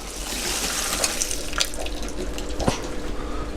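Water poured over a sieve holding small pieces, a steady broadband splashing rush running the whole time, close and fairly loud, with a few sharper drips and clinks near the end.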